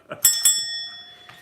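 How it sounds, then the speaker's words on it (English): A bell rings twice in quick succession, bright metallic strikes with a long sustained ringing tone that slowly fades, then a soft tap near the end. "Could I be the one to ring the bell?"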